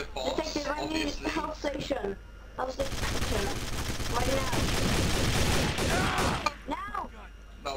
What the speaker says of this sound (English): Someone shot me. Oh my god, what a stupid gun.